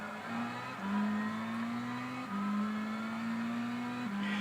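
A race car engine in Gran Turismo 6 revs and upshifts repeatedly on a circuit, its tone climbing steadily then dropping at each gear change, a clear, sustained drone heard alone.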